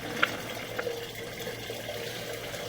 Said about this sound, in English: I have the bathtub water supply turned on